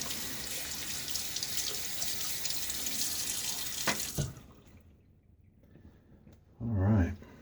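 A bathroom tap runs in a steady, hissing stream for about four seconds while a Gillette Aristocrat Jr safety razor is rinsed. The water then shuts off, leaving quiet, and a brief voice-like sound follows near the end.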